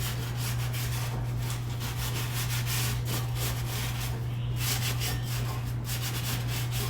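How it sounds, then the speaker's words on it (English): Steady, continuous scrubbing of kitchen stovetop grates, a close, dense rubbing noise with a constant low hum beneath it and no talking. "I'm going to give all of this a good scrub down."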